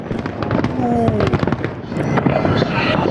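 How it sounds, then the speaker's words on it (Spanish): Fireworks burst continuously over Valparaíso, Chile, with dense overlapping crackles and pops and occasional whistling rising shells, loud and sustained, with a voice faintly mixed in beneath. "Están prendidos los fuegos artificiales, esto va a durar más de 20 minutos."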